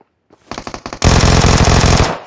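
Gunfire in the PUBG Mobile video game: a short burst of separate shots, then a loud, sustained rapid automatic volley with a steady rhythm, close and with nobody talking.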